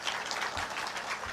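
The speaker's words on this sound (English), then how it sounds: "Another round of applause for Dr." Applause from an audience at the launch of a mass net distribution campaign in Homa Bay County, a soft, steady patter of many hands clapping at a distance, quiet and brief.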